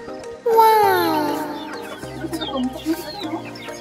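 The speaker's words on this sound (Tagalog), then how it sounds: "kay mangdakop na kita sa manok." Chickens cluck and squawk loudly up close as they are being caught, with one sharp rising squawk followed by a run of agitated clucks. A voice is faintly audible in the background.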